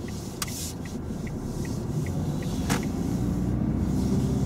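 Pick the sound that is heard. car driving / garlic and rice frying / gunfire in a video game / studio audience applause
car driving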